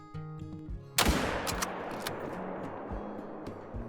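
A single loud hunting rifle shot fired at a deer in the hunting game Call of the Wild, a sharp crack followed by a long rolling echo that fades over the next few seconds, with faint quieter sounds before it.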